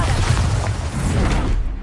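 A Bombarda spell detonates in Hogwarts Legacy amid rapid spellcasting combat, a short, dense, booming burst with crackling debris, loud and close, fading quickly.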